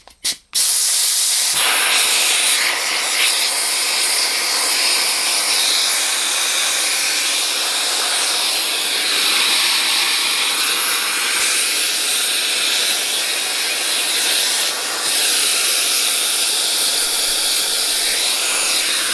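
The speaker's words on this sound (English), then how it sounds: "I'm just getting air coming out through the exhaust" Compressed air hisses loudly and steadily from the exhaust of an Ingersoll-Rand 231G impact wrench, a continuous broadband rush lasting the whole stretch after a brief click at the start.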